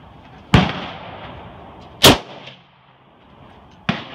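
A Mosin Nagant rifle fires three loud, sharp gunshots outdoors, spaced unevenly about one to two seconds apart, each with a short echoing tail over quiet background noise.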